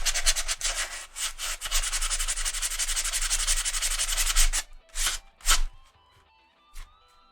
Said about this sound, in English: So I'm going to just quickly rub off any excess glue.